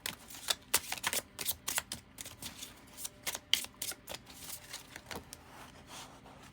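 A deck of tarot cards being shuffled in quick repeated riffles, crisp flicking bursts up close with short pauses between them.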